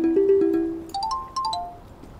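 Phone ringtone for an incoming call, a short electronic melody of clear tones stepping from low to higher notes, then a second phrase of chiming beeps, close and alone.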